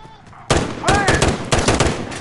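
Rapid bursts of automatic gunfire in a shooter video game, loud and close, crackling in quick repeated volleys after a brief quiet lead-in, with a faint voice underneath.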